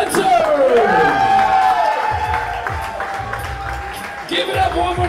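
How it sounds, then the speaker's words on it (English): Crowd at a fight league event cheering and applauding loudly, with whoops and shouts over a dense roar and a sustained tone running through, continuous for several seconds. "A big round of applause."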